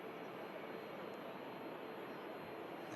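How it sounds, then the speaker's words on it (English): Steady, broadband jet engine roar from an Aer Lingus A320 taxiing at Manchester Airport, a constant distant whine and rumble that holds without change for the whole stretch. "The Aer Lingus 320 is on the taxi now"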